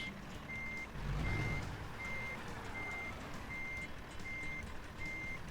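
Reversing beeps from a truck in American Truck Simulator repeat at an even pace, seven regular tones over a low engine rumble, with a short thump of air near the start and no talking.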